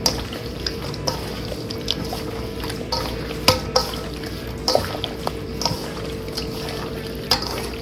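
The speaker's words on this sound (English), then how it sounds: "Go ahead and mix this all together." Chicken being stirred with seasoning and olive oil in a bowl, giving wet squelching stirs and occasional sharp clicks of the utensil against the bowl, close and fairly loud, with no talking.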